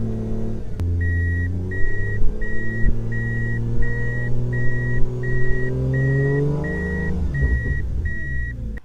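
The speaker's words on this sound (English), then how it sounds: "I'm going to start the car up right now" A big-turbo 1JZ engine in a Toyota Soarer with a blown gearbox cranks and catches, then idles and revs with rising, wavering tones while an electronic warning chime beeps steadily about ten times through it.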